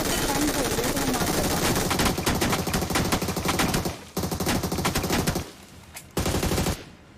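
Dense automatic gunfire in a battle royale video game, loud and continuous bursts that barely pause, with short gaps near the middle and end before the shooting resumes, no talk over it.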